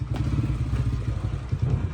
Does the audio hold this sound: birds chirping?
no